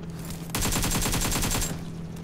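Rapid burst of automatic gunfire in the battle royale game PUBG, a loud, steady rattle of about a dozen close shots over low game ambience, with no talking.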